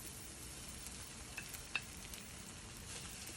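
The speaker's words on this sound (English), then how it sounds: "Hear the sizzle?" Potatoes and flour fry in a pan with a faint, close sizzle, broken by a couple of small sharp pops partway through.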